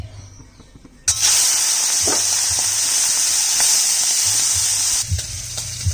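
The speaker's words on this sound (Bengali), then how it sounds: "কড়াইয়ে তেল দিয়েছি এখন চিংড়ি মাছটা ভেজে নিচ্ছি" Shrimp hit hot oil in a wok with a sudden loud sizzle that holds as a steady, bright hiss for several seconds before easing slightly, with faint clinks and stirring underneath.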